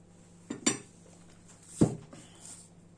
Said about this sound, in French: on va déjà nettoyer la cuillère.